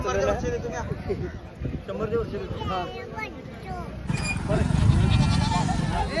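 A goat bleats repeatedly, close by, while people talk over it and the wind buffets the microphone.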